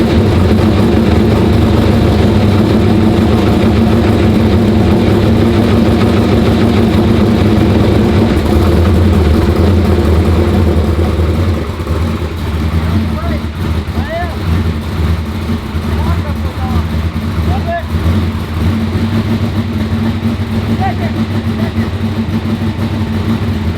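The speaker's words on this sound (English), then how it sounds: "I pressed the trans brake and engaged the lockup" Drag car engine held on the trans brake with the lockup engaged, a loud, steady low rumble that drops slightly in level partway through and carries on.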